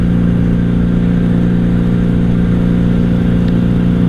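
A wrecked 1997 Honda Magna 750 VF750C motorcycle engine drones steadily while riding, loud and close with a constant low hum and wind rush.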